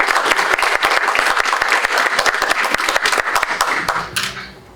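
A board meeting room breaks into a round of applause honouring an employee's 30 years of service, a dense, steady clapping from a small gathering that fades out in the final half-second.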